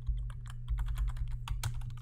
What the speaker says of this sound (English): So we could type in here that this is